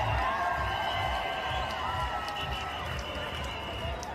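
A large outdoor crowd at an anti-lockdown protest in Australia, its dense steady murmur holding evenly throughout with occasional faint shouts rising from within.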